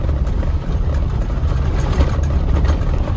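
Car engine running at roughly 20 mph on a dusty dirt road in rural Texas, a steady low rumble with road noise filling the whole stretch, no talk over it.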